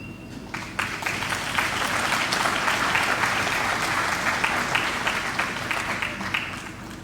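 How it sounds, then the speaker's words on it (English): Sustained audience applause at the inauguration of the Vreed-en-Hoop Shorebase in Guyana, attended by President Ali, a dense, even roar of many clapping hands from a large crowd lasting several seconds. "Let's have another round of applause"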